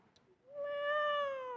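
A human voice imitates a betrayed cat with one long, drawn-out, plaintive meow that swells and holds steady before breaking off.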